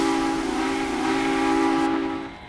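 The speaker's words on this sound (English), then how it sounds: "That's probably my favourite whistle from any locomotive" Southern Railway 4501, a steam locomotive in the Trainz game, blows one sustained, loud chime whistle with a rich multi-tone sound, holding steady for about two seconds before it cuts off. No one speaks over it.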